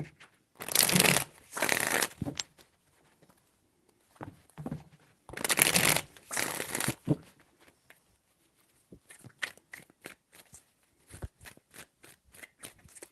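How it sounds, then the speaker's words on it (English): Tarot cards are shuffled in several loud riffling bursts close by, separated by pauses, followed by lighter scattered taps and flicks of the deck. "Pre-shuffle 3 more."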